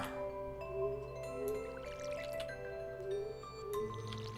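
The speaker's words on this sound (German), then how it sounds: "Und gießen können wir sie auch schon." Watering crops with a watering can in the Stardew Valley video game, soft repeated splashy pouring and dripping effects over quiet game background music.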